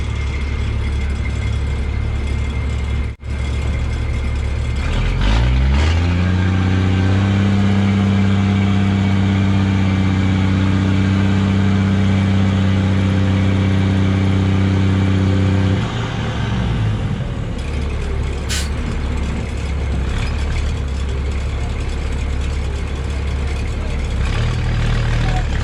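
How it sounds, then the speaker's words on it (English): A truck's diesel engine at an excavation dig site for a retaining wall idles, then revs and labors steadily for several seconds as it pulls out, before easing back to a lower rumble; no voices. "I don't know if the truck's gonna pull out of here."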